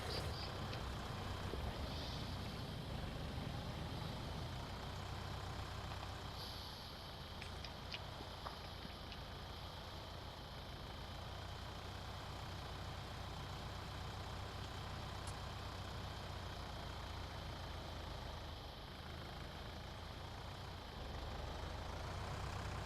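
A farm tractor drives along a road, its engine giving a steady, close, continuous drone with no break in the rumble.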